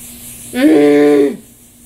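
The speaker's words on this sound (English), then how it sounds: "last step. Setting spray." A short spray burst hisses for just under a second, close and loud, starting and stopping abruptly.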